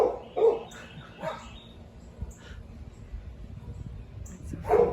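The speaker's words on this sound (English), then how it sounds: "in environments where neighbors are separated by fences, you will have barking dogs" A few sharp dog barks, one near the start, another soon after and a last one at the end, with quiet outdoor ambience between.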